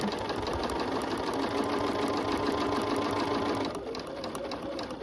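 A sewing machine stitches quilt fabric at a slow, even pace, its rapid mechanical chatter close and continuous, easing slightly near the end, with no voices heard.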